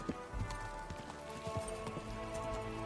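Quiet, irregular hoof clip-clops of a horse on hard ground, faint and close together, with soft background ambience.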